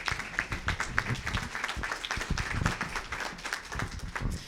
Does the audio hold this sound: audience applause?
yes